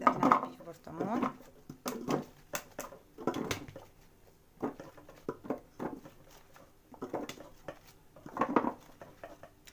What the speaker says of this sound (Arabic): نبدا نعبيه في برطمان